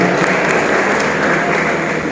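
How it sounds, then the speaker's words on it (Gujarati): An audience at a divyang cricket tournament event in Unjha claps steadily and loudly to welcome dignitaries on stage, forming a dense, continuous wash of applause. "આપણે તાળીના ગડગડાટથી સ્વાગત કરીએ"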